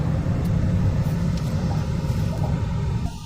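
A car passes on a city road, a steady close rumble of engine and tyres lasting a few seconds with no voices.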